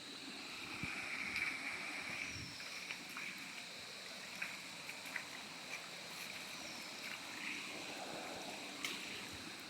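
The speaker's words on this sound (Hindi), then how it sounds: "तो दोस्तों ये सुंदर सा झरने का पानी" Steady rushing of a forest waterfall in Chitrakoot, a broad continuous wash of flowing water close by with faint birdlike chirps and small splashes over it.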